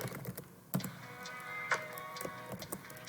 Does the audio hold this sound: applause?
no